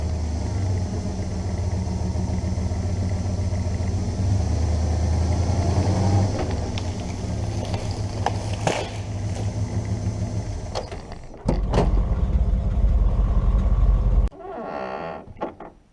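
A truck engine revs hard and steadily while pulling a dead, side-leaning tree, a loud low rumble that holds for several seconds, dips, surges again and then drops off as the gas is let off.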